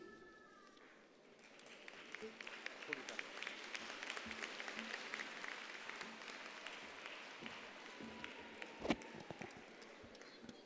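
Sustained applause from a graduation ceremony audience for the graduating class of 2021, a dense wash of many hands clapping that swells and holds steady, heard at moderate distance with a few louder claps standing out.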